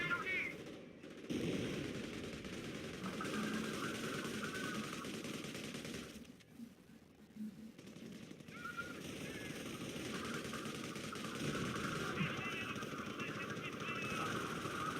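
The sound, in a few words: gunfire from soldiers in the video game Company of Heroes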